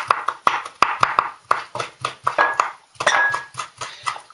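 A knife finely chops bell pepper on a cutting board in a kitchen, making sharp, close taps in a steady rapid rhythm. A brief pause interrupts the chopping before it resumes.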